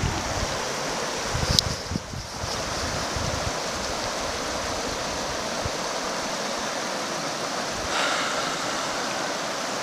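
A river flows with a constant, full rush of water that stays steady and fairly loud from start to finish, with only small shifts in its texture.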